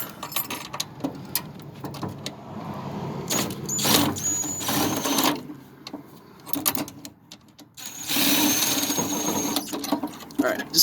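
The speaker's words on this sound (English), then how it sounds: "I'm gonna get the DeWalt in there" A DeWalt power drill driving a fastener snug while mounting a light fixture, heard in several short whirring bursts of a second or so, separated by handling clatter and quiet gaps, close by.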